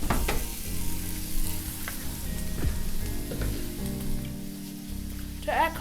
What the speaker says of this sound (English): No hibachi is complete without rice, so let's put our bowl of rice on the flat top.